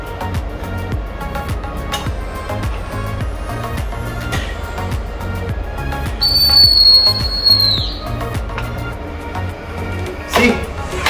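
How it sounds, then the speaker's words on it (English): A self-contained breathing apparatus low-pressure warning whistle sounds one shrill, steady, close tone for about two seconds after the cylinder drops 50 bar, then glides down and stops, over a constant hiss of rushing air. "So that was the warning whistle."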